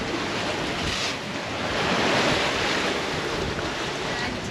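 A sailboat moving under sail at about 13 knots of apparent wind just forward of the beam, with a steady broadband rush of waves washing past the hull and wind buffeting the microphone, swelling slightly midway, no voices.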